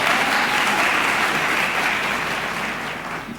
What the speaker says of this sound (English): that performance deserves another round of applause